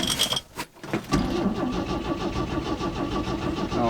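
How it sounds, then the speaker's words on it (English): Long-idle Chevy C10 pickup engine cranking briefly with a starter whir, then catching and settling into a rough, steady rumbling idle, close and loud. "I can turn it over with the key."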